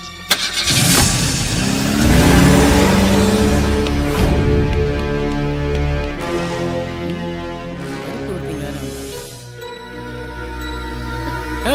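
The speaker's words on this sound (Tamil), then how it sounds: "டிரைவர் வண்டி எடு." A car starts and pulls away, its mid-pitched engine revving loudly and steadily before fading near the end, with no talk over it.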